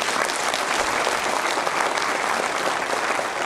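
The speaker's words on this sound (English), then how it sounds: "Let's first have a big round of applause for all of us." An audience at a morning product leadership conference applauds, a dense, sustained wash of many hands clapping at once, loud and steady with no voices standing out.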